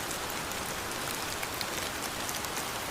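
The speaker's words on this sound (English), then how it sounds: "it began to rain." Rain falling outdoors, a steady dense patter of drops on surfaces, even and continuous with no voices.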